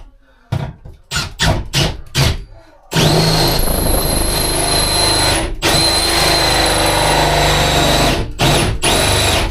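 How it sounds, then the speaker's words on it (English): Hole saw (tank cutter) drilling through a panel during a van build, starting with several short stuttering bursts then a loud, steady grinding whine for most of the clip, broken by a couple of brief pauses near the end. "And then we can drill the next one out"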